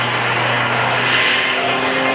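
A Gary Ward MX-2 aerobatic airplane at the 2015 NAS Oceana air show gives a steady, loud engine and propeller roar with no break, as it flies past at a constant distance.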